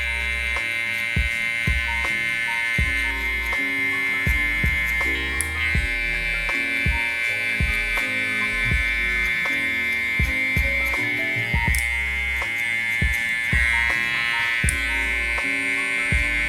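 Electric hair clippers fitted with a 0.5 guard buzz steadily as they blend a drop fade at a barbershop. The hum stays close and constant, with small clicks and knocks as the clipper moves.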